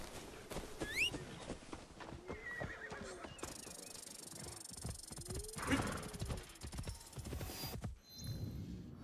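A horse in the video game Assassin's Creed Shadows clip-clops along, its hooves tapping in a quick steady rhythm, with whinnies rising twice, one near the start and a louder one midway, over a game soundscape with faint bird calls.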